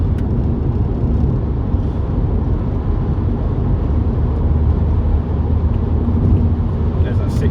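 A 2007 BMW 120d diesel hatchback pulls hard through the gears in an evening drive, a loud steady engine drone and road roar filling the cabin without any break.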